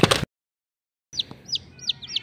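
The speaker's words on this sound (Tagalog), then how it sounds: "nasa kamay na po natin yung sisiyo ng labuyo" Repeated high, thin peeps from a hand-held red junglefowl chick, a series of rising-falling chirps after a short burst of noise and a silent gap, close to the microphone.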